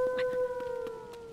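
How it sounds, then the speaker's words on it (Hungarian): Wolves howl in Zelda: Tears of the Kingdom, a sustained tonal howl holding a steady pitch with overlapping harmonics, set against faint rhythmic game sounds and a little background chatter. "Farkasok."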